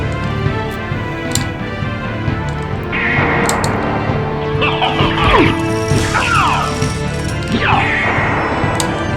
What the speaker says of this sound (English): So when he tosses the glass right there in the game